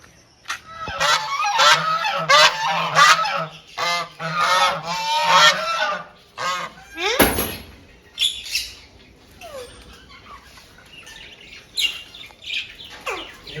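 Geese at an ashram honk loudly and close by in a string of harsh, repeated calls. Quieter bird chirps and background sounds follow after the honking stops.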